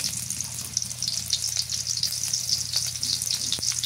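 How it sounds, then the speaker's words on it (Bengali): Cabbage and chopped onion frying in oil sizzle steadily up close, with bright crackling bursts and occasional stirring scrapes throughout. "এই করার মধ্যে তেল দিয়ে দিই, পাতাকপি ভাজি করব। পেঁয়াজ কুচি,"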